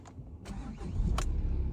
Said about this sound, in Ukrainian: З пів оберту у нас автомобіль завівся.